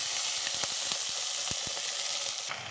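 Pieces of bottle gourd frying in hot oil in a pan after mustard has been fried, heard as a constant close sizzle with a series of sharp crackling pops and stirring taps.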